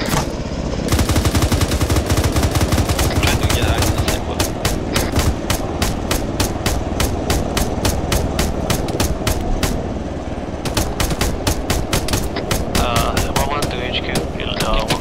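Rapid automatic gunfire with tracers in the military shooter ARMA 3, a dense, loud stream of sharp bursts and single cracks that runs almost without pause, with a brief lull midway before heavy firing resumes.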